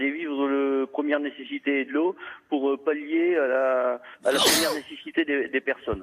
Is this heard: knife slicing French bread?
no